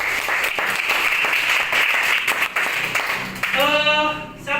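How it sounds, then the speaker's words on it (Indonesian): Classroom applause for a student, a dense burst of many hands clapping together that fades out as a voice begins speaking at the end. "Terima kasih kepada Mei, berikan tepuk tangan kepada Mei."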